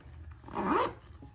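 A zipper on a pocket of a crossbody bag is pulled open in one smooth, rising rasp lasting under a second, close and fairly loud, with no talking.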